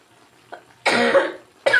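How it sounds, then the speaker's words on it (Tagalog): Two harsh coughs, the first a longer burst and the second a short one cut off at the end, close to the microphone with faint noise before them, beside a hot cooking stove. "Pasensya na sa ubo guys."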